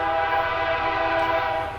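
A train sounds its horn while passing near a truck campsite, a loud sustained multi-tone blast holding steady before beginning to fade, without talk.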